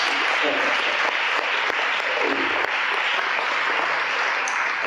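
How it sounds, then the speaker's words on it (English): Audience at a talk on emotional wellness breaks into loud, sustained applause, a thick continuous roar of many clapping hands with faint voices mixed in. "Let's give her a hand clap."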